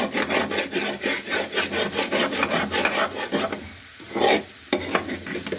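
Finger potatoes tossed with spice mix in a pan, a spatula scraping and stirring in quick rhythmic strokes against the metal, close up, with a light sizzle underneath.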